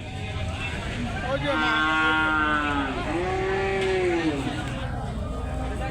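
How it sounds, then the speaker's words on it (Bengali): A cow moos twice in long, drawn-out calls, close and loud, over steady background noise and some voices at a village cattle market. "অনেক বড় একটা গরু।"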